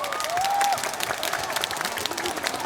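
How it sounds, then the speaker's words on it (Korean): Crowd at an outdoor festival concert in Anseong, Korea, claps in a sustained, fairly loud wash of applause, with a few scattered cheers mixed in. "국민 여러분 동의하시면 박수 한번 부탁드리겠습니다"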